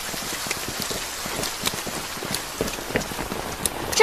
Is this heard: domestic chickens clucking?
no